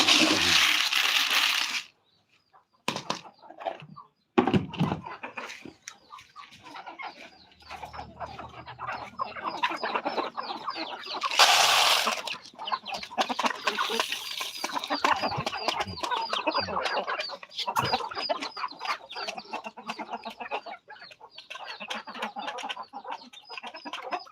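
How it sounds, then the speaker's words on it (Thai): Chickens clucking close by, with the soft peeping of tiny chicks hatched two days earlier, a steady busy chatter of calls through a backyard setting with a few brief louder bursts. "ไก่ตัวเล็กเพิ่งฟักออกมาสองวัน"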